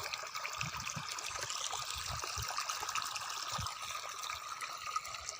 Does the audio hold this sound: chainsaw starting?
no